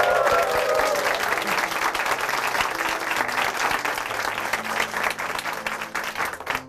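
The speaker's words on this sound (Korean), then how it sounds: "박수 부탁드립니다." Steady applause from a church congregation fills the space, a dense sustained clapping that continues alone without speech until it tapers at the end.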